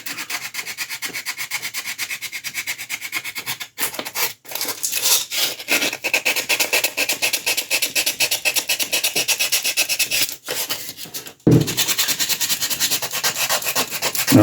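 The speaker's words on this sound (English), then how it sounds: "clean up the sanding scratches with the finer grit sandpaper" Steady rasping strokes of fine-grit sandpaper on a resin model piece, close and rhythmic, with brief pauses between bursts of rubbing.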